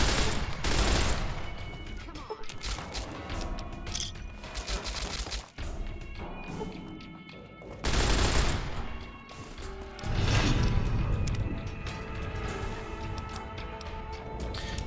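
Bursts of machine gun fire and crashing impacts in Fallout: New Vegas, loud and dense, coming in rapid volleys with short lulls between them.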